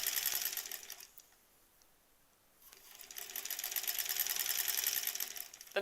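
A sewing machine stitches granny-square quilt pieces, a fast close mechanical whirr that drops out for about a second and a half in the middle, then resumes steadily to the end.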